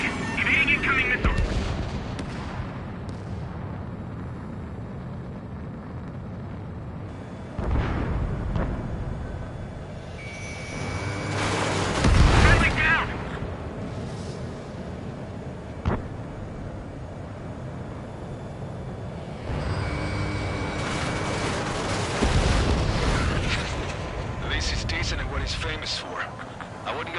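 Ace Combat 7 aerial combat rumbles under constant jet roar, with bursts of missile launches and heavy booming explosions swelling and fading while cockpit warning tones and radio voices cut in.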